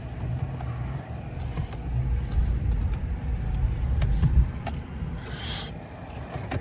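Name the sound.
four-wheel drive truck driving in snow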